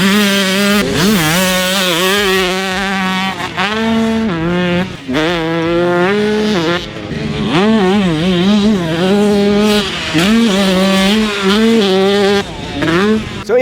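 A 2003 Kawasaki KX144 two-stroke dirt bike is ridden hard around a track, its loud buzzing engine revving up and down continuously through repeated throttle blips and shifts.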